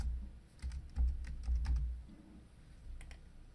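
Rapid typing on a computer keyboard while naming a layer in a design program: a quick run of light key clicks, with a short burst near the end, heard alone at moderate volume.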